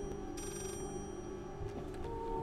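A telephone rings with a steady electronic trill in the horror video game Layers of Fear, heard over a dense, droning ambient background for about two and a half seconds.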